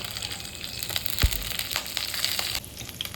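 Peanuts and curry leaves frying in hot oil for mango chitranna, a steady close sizzle and crackle with a brief stirring scrape partway through, no voices.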